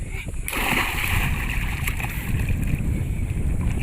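Water splashes and sloshes steadily as a child learns to swim in the Borsut river at Sonawade in summer, with voices shouting encouragement over the churning water.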